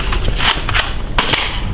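Three sharp toy gun pops in quick succession, crisp and close, with brief gaps between them.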